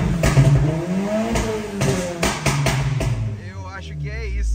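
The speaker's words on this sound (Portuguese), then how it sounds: "Vamos tentar subir o giro um pouco mais." A 450 hp Volkswagen Golf GTI engine revs up in repeated bursts toward a 6,700 rpm shift light, rising and falling close by while people talk over it.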